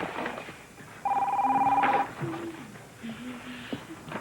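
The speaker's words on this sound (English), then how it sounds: "Is that the phone?" A telephone gives one steady electronic ring of about a second, clear above a quiet room in a TV drama, while people murmur faintly around it.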